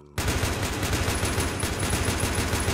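Rapid automatic gunfire from the Minecraft Battlefield mod rattles continuously and loudly from start to finish, in dense bursts with no talking.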